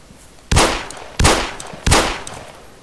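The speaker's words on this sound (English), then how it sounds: "Explosion went off that wall" Three loud, sharp blasts of gunfire in the military video game ARMA, evenly spaced about two-thirds of a second apart, each with a short decaying tail, close and with no talk.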